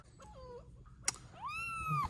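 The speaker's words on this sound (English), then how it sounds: "Here's an update on our kitty cats." Farm cats meow in short bursts, a couple of distinct rising and falling cries separated by a brief pause, fairly close against a quiet background with no talking.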